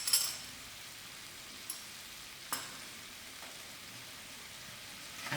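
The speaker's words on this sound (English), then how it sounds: "I'll allow this to fry out for a few seconds" Minced meat frying in a pan with chopped spice, barbecue spice, mixed herbs and salt gives a faint, steady sizzle, with a few soft clinks from stirring along the way.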